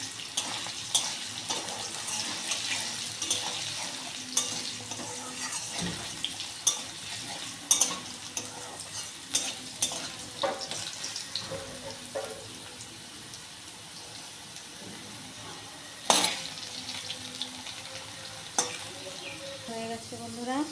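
Potatoes sizzle with a pinch of turmeric in a pan, a low steady frying hiss broken by repeated scraping stirs and occasional sharper clinks of a spatula against the metal.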